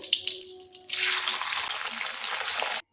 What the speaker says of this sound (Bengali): এই তেলেই বাকি পনিরগুলো ছেড়ে দেবো।